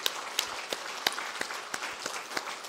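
A church congregation claps together in steady, evenly spaced applause, a medium-sized crowd filling the room without voices.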